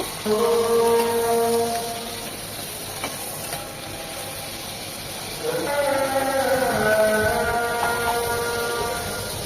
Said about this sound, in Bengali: এগুলো এপাশ ওপাশ এক মিনিট করে ভেজে নেব